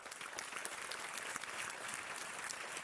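An audience claps warmly to welcome a panelist at a cross-cultural collaborations panel discussion, a dense, steady wash of applause from a seated crowd throughout.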